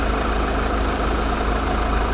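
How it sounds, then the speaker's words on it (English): A Ford 2-litre bi-turbo four-cylinder diesel engine idles, paired with a 10-speed automatic, a steady, even, close rumble with a dense hiss and no variation across the stretch. "this one is Ford's 2-litre bi-turbo 4-cylinder diesel"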